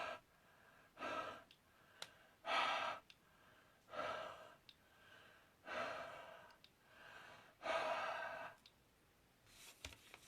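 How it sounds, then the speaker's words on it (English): Breath blown onto a rubber craft stamp, five or six soft, drawn-out exhalations spaced a couple of seconds apart, close and quiet, with no talking. "We'll have a good old breathe on it."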